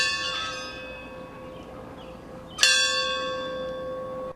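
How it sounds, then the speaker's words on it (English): A victory bell rung at Kent State University during a remembrance gathering, sounding as a sustained resonant toll that decays slowly, followed by a second louder strike about halfway through, with no talking. "he was honored to ring the victory bell at Kent State University in remembrance"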